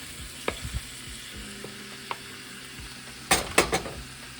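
Beef sizzles in a hot pot, a close, continuous frying hiss broken by a few soft utensil knocks and a louder cluster of clattering stirs near the end.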